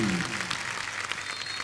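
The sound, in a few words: audience applause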